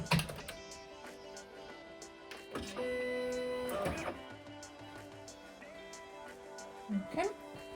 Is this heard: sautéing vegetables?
no